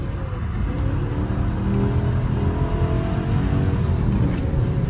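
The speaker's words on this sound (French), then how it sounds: "V8, à fond les gaz, vas-y" A BMW M3 E90 V8 revs hard at full throttle, a loud, steady, close engine roar held for several seconds without a break.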